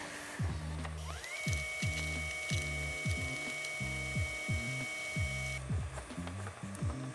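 Stepper-driven axes of a 3D printer, extruder and print bed, being pushed by hand, giving repeated ratcheting, gear-like clicks in short bursts with a steady electronic whine partway through; close and fairly loud, with no talk.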